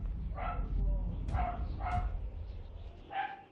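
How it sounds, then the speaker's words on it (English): A dog barks in GTA V, several sharp barks spaced irregularly over a low rumbling game background with some voice present. "Boy, I wish that dog would shut up."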